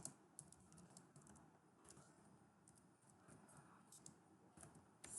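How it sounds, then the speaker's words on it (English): Soft, quiet keystrokes on a computer keyboard as a quiz question is typed, scattered light taps with brief pauses and a slightly louder burst at the end, no talk. "you can manually type your question"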